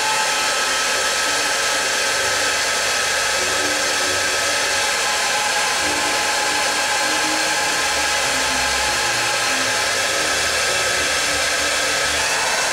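A heat gun blows steadily on the edge of a clay pot while a potter stiffens it, a continuous loud airy roar with a motor hum underneath, close and unbroken throughout with no talking.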